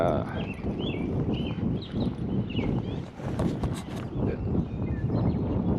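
A saddled, ridden mare trots outdoors, her hooves striking in a steady, rhythmic clip-clop, with faint birdsong and a voice in the background.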